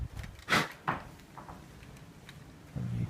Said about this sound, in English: you can hear the door banging